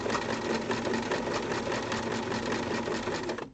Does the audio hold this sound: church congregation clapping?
no